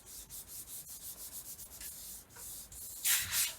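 A wet wipe is rubbed over a dampened paper card, giving a quiet, rhythmic scrubbing hiss of quick back-and-forth strokes close by, growing briefly louder and rougher near the end, with no speech.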